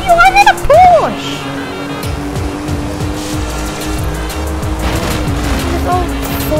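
A Porsche racing an old Ford in Forza Horizon 5, with a steady droning engine tone, tire noise and passing rumble throughout, and a voice briefly heard near the start.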